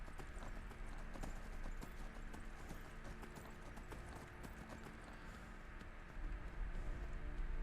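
Hooves of a horse in the video game Skyrim clip-clop in a steady walking rhythm, fairly close and quiet, with a faint low rumble beneath.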